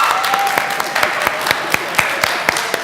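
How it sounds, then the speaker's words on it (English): A church congregation clapping for its youngest members, born after 2000: a smaller, sparser round of applause in which individual claps stand out in a loose, fairly regular rhythm, with a faint voice underneath. "Let's all clap for the ones born after 2000"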